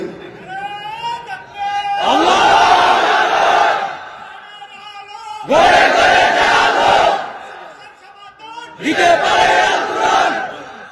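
A large crowd shouts the takbir in three loud, roaring bursts with short pauses between them, massed voices close and overwhelming, with some chatter at the start.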